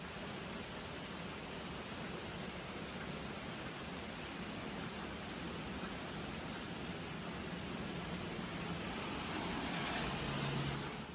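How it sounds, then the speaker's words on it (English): Steady broadband rush of rain falling outdoors, a dense continuous hiss that stays even throughout and swells slightly near the end, with no voices. "it started to rain"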